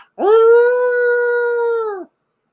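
A man imitates a wolf howl with his voice: one loud, close, sustained howl lasting about two seconds, rising at the start and dropping off at the end, followed by silence.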